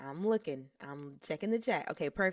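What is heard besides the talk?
No everyday noises stand out.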